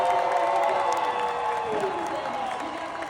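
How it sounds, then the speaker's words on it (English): Convention crowd at CCXP México 2025 applauding and cheering two guests, a dense wash of clapping and whoops that stays loud and steady throughout. "Let's give a big round of applause to these two geniuses."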